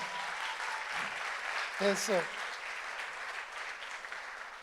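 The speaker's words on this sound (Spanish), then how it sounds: "Demos un fuerte aplauso a la palabra de Dios." A church congregation gives soft, steady applause during a sermon, with a brief spoken word rising above the clapping partway through.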